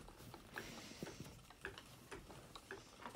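A spinning wheel twisting thick-and-thin merino wool into handspun yarn, giving a soft, steady mechanical tick-tock rhythm of evenly spaced clicks, quiet and close with no talking.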